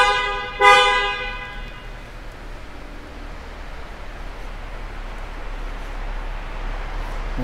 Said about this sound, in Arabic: سمعكم صوت البوري.